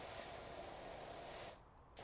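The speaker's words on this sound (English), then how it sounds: "We can just spray these down." A pressure washer in PowerWash Simulator sprays down patio chairs with a steady, close hissing jet. It runs continuously, then dips briefly near the end before picking up again.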